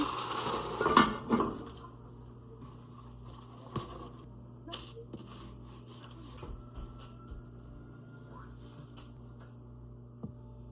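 A metal lid is set onto a cooking pot, giving a close, sharp clatter of a few clanks near the start, followed by quieter scattered clicks and a low steady hum.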